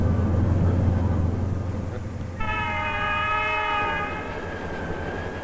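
A train rumbles steadily, and partway through a loud, sustained horn blast sounds for about two seconds before fading back into the rolling noise.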